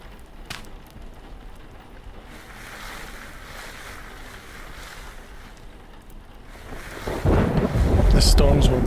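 Thunderstorm in the game Vintage Story, heard as a soft wash of rain and distant rumble that builds into a louder, closer roll of thunder near the end, with no voices.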